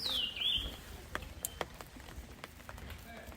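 A small bird sings from a treetop along the humid hemlock forest trail at Taipingshan, a brief descending whistle at the start followed by faint chirps over soft forest ambience and dripping.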